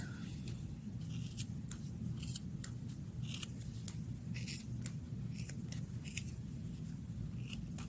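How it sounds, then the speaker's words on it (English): Sharp scissors snipping through wrapped yarn between cardboard pieces while making a pumpkin pom-pom, giving a steady series of close, crisp cuts over a low background hum, with no talking. "It's best to use some sharp scissors for this project"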